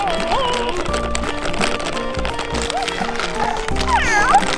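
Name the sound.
FurReal Walkalots toy kitty making noise while walking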